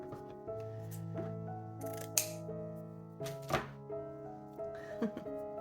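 Scissors snip through a new piece of burlap for a fabric junk journal insert, giving a few sharp, close cuts over a steady background hum of sustained tones.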